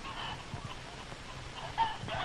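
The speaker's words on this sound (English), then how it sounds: "The father chicken, the rooster. He's larger than the hens and has a big red comb on his head." Hens and a rooster cluck on a poultry farm, with short scattered clucks and a brief louder call near the end over steady farmyard background.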